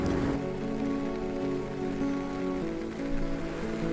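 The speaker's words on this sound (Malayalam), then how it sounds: "നല്ല മഴയാണ്" Heavy rain pouring steadily on a surface outdoors at a market fair, a dense continuous patter with no talk, constant in level throughout.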